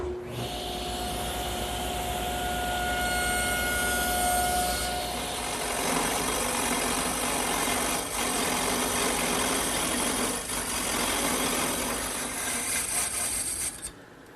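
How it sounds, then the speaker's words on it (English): A table saw runs steadily as a wooden piece is pushed through a shallow score cut against a miter gauge and stop block. The loud, continuous motor whine and broadband cutting noise carry on for the whole stretch without speech. "So I've set up a stop block and the saw at a shallow cut. I'll guide the piece through with my miter gauge."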